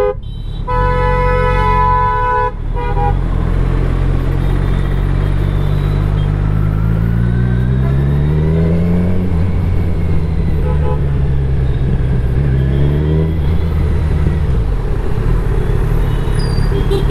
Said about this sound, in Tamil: இங்கே கொஞ்சம் டிராஃபிக் இருக்குது.